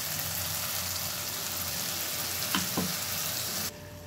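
Steady, loud sizzling as a little water, rinsed from a mixer jar, hits a hot pan of potato curry being cooked on a gas stove, with a couple of soft stirring knocks before it cuts off abruptly.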